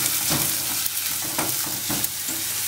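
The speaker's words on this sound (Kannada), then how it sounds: "ಚೆನ್ನಾಗಿ ಅದು ಫ್ರೈ ಆಗಿ ಈರುಳ್ಳಿ" Onions frying in a pan with salt for avalakki upma, a steady close sizzle with soft stirring scrapes running throughout, no voices.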